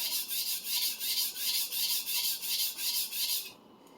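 A 250mm Minamoto sujihiki blade is worked in the corners of a whetstone, producing rhythmic back-and-forth grinding strokes, about ten of them, close and fairly faint, with a quiet pause at the end.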